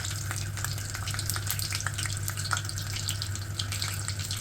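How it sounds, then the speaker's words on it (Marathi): Hot oil for mutton masala sizzles steadily in a pan, a loud continuous crackling hiss with a low hum beneath, no talking. "आता तेल उकळलेले आहे."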